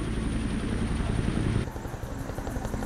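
A helicopter flying a supply run to a mountain cave site in Thailand, its loud, steady rotor and engine roar close by, then shifting to a lighter chopping beat partway through.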